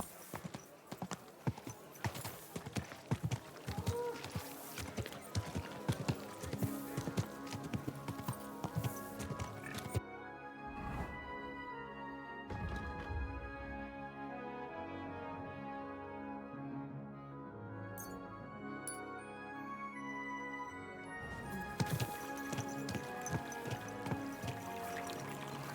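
Steady clip-clop of horse hooves at a walking pace in the video game Kingdom Come: Deliverance II, close and distinct, with a calmer stretch of ambient sound midway before the hoofbeats return.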